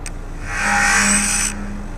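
A DJI FPV drone gives its power-on sound: a short rising, tonal whoosh lasting about a second, loud and close, then quiet hum.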